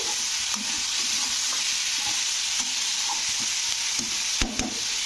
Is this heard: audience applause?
no